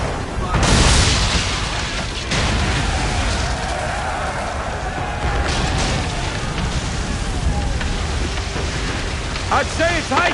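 Heavy rain pours through a storm at sea in Assassin's Creed 3, a steady loud hiss with deep booms of thunder rolling in, while characters talk over it.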